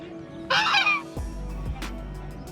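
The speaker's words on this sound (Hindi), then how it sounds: "ये स्वैन है, हंस।" Swans at Rewalsar lake, a hill lake in Himachal, give a loud honking call at close range, followed by a few fainter outdoor knocks and rustles.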